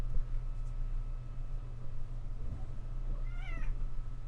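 A house cat gives a single clear meow near the end, heard over a steady low hum of background noise.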